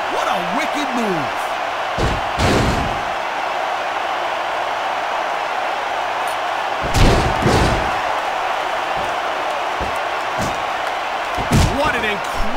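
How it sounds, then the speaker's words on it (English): A wrestling slam finisher, the Dupree bomb, in the WWE SmackDown vs Raw 2006 video game, from a table match between Rene Dupree and Heidenreich: several heavy thuds and slams over a steady crowd roar, with a commentator talking throughout. "The Dupree bomb! What a wicked move!"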